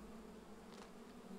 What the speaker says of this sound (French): Mais moi j'entends plus que des mouches